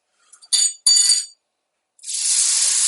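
Scallops hitting a hot pan, a couple of bright clinks followed by a loud, steady sizzle of searing, close up with no talk.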